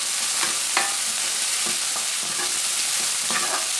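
Green chillies, curry leaves and coriander fry in a pan for a soy recipe, giving a steady close sizzle broken by regular scraping stirs, with no one speaking.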